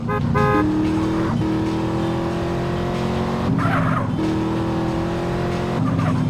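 A car in the video game GTA San Andreas drives hard with a loud, droning engine note that climbs and dips through gear changes, broken by sharp tire squeals and skids, up close and without speech.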